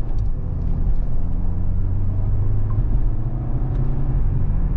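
A 2013 Volkswagen CC accelerates at half pedal toward highway speed, its engine a steady low rumble with road noise filling the cabin, continuous and fairly loud with no talk.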